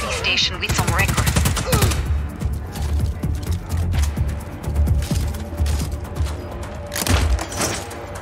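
Gunfire in Just Cause 4, including shotgun blasts, rings out as a dense volley of sharp cracks and booming thumps, with bursts clustered early, in the middle and near the end over a low rumbling game background.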